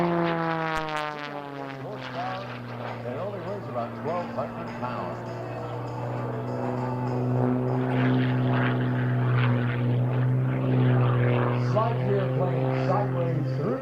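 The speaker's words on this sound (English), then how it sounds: "This airplane was designed at suggestions from Rob. It's the only one of its kind." A carbon fiber MX-RH aerobatic airplane flies at an airshow, its propeller engine droning loudly with shifting pitch as it maneuvers, under an announcer's voice over a loudspeaker.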